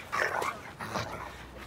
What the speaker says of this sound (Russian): Лаврики вообще универсальные собаки.